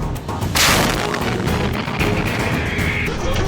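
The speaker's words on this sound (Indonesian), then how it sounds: "Ledakan dahsyat pada benteng tentara Ukraina terekam jelas drone Rusia" Russian artillery shelling Ukrainian fortifications, a loud, dense rumble with a heavy blast burst near the start and a continuous roar of distant explosions throughout.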